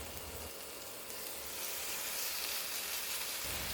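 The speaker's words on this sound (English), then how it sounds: "Add mushrooms, carrot, green onion, and marinated beef." Mushrooms, carrot, green onion and marinated beef for bulgogi sizzle in an oiled pan over medium-high heat, a steady close frying hiss that swells slightly louder partway through, with no voices.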